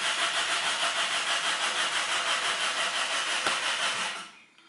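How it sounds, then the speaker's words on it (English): A car's starter motor cranks an engine fitted with new spark plugs that fails to fire, a steady whirring churn that continues for about four seconds and then cuts off abruptly. "Only starter runs and rotates this engine."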